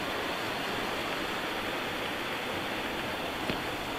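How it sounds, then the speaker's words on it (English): A brook or creek flows steadily at a bush campsite where platypus sometimes visit, a constant broadband rush of water close by with no voices. "listen to the brook or the creek."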